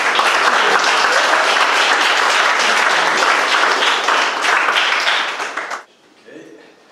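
Loud, dense applause from an audience welcoming presenters at a coding bootcamp demo day in Mauritius, sustained evenly and then cutting off sharply near the end, followed by a brief voice.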